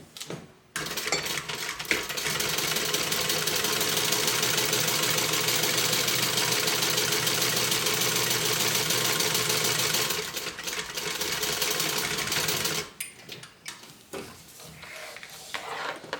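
A sewing machine top stitches the pocket of a tote bag. It runs in one steady, continuous whir for about twelve seconds, then stops and leaves quieter handling sounds.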